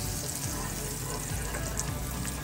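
Eggs scrambling in a hot pan give a steady, soft sizzle that holds even throughout, with no voices.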